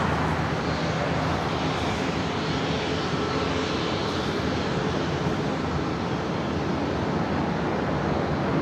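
A JetBlue Airways Airbus A321 arrives on the north side at LAX, and its engines give a loud, continuous broadband roar mixed with wind-like rushing throughout.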